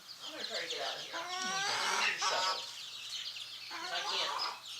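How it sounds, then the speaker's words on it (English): Chickens roaming a field cluck and squawk in several bursts, close by and fairly loud, with a person speaking briefly alongside them. "Chickens are just roaming the field."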